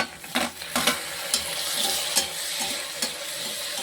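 Tomatoes tipped into a pan of frying vegetables for wheat rava kichadi, with steady sizzling and a few short stirring scrapes and knocks scattered through, close and moderately loud, no voices.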